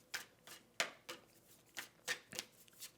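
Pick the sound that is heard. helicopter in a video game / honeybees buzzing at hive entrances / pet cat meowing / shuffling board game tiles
shuffling board game tiles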